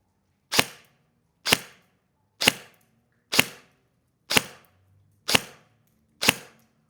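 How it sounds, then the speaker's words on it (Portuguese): Seven crisp, snappy shots from a Nova Neptune MARSOC airsoft gun on semi-automatic, using 0.20 BBs and an 11.1 LiPo battery, fired one at a time about a second apart, each a sharp pop with no talking. "disparos no semiautomático"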